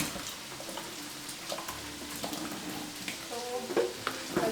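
Meat fries in a pan in a home kitchen, a soft crackling sizzle close by, broken by light clinks and stirring scrapes, fairly quiet.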